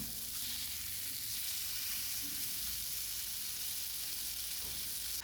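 Steady, close sizzling of squid pieces frying in hot oil, a continuous crackling hiss with no voices.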